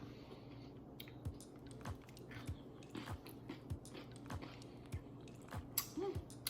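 Crunchy chewing of Sola keto granola, with steady bites and mastication pulses about every half second, close up and fairly quiet, without speech.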